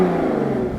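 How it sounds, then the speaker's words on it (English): A Porsche Cayman sports car engine revs loudly and close, a deep sustained exhaust roar lasting under a second. "let's listen to the exhaust."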